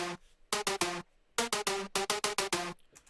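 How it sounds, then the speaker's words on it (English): Dry plucky synth lead programmed in FL Studio for a big room festival track, played with no processing plugins: short bright staccato notes in quick groups separated by brief gaps, thin and fairly quiet, with no voices. "So with all of the plugins turned off, the leads sound like this."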